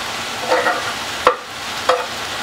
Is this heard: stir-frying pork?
yes